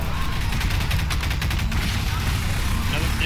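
Rapid, sustained gunfire from a ground turret in Half-Life 2 Episode 2, a dense continuous burst of shots running the full length at steady loudness, with faint voices underneath.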